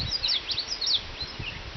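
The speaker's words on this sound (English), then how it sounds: "Do you hear the birds?" Outdoor birdsong on rural land: several high chirps and short warbling calls repeat near and far, over faint rustling and low background noise, with no talking.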